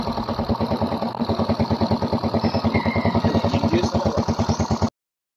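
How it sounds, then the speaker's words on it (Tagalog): A Yamaha Mio scooter engine with exhaust idles with a rapid, even putter, close and steady, before stopping abruptly. "kailangan ko iparinig sa inyo ang makina na merong tambutso"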